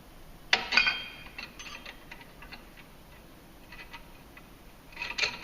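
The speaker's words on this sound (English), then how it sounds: "So now we can put the spring in, compress that down in there, line up the X's that you got on there." Metallic clicks and clanks while a spring is compressed into a Polaris ATV primary clutch, a sharp clatter at the start, scattered ticks, then another burst of rattling near the end, close.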